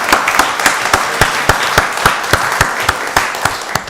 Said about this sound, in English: Give her another round of applause, y'all